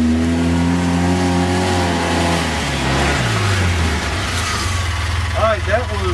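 Polaris Ranger 700XP utility vehicle passing by outdoors, its mid-pitched engine note rising and shifting as it approaches and goes past, loud and close with some revving, and voices talking over it.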